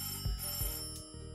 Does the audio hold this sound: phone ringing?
yes